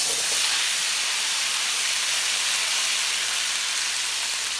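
Prawns hit a smoking hot wok and sizzle with a loud, steady, broadband hiss that spits and crackles continuously, close up with no voices.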